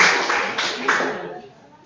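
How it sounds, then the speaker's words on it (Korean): Short burst of audience clapping during a church sermon, a few people applauding briefly and fading out within two seconds. "우리 박수 한번 합시다"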